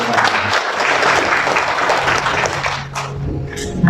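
An audience gives a burst of applause, dense and loud clapping from many hands that holds for a few seconds and then thins out.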